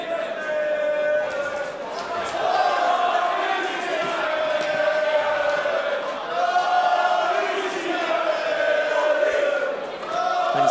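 Crowd at a boxing match cheering on a local fighter, a steady, loud roar of many voices with rising and falling shouts that holds throughout.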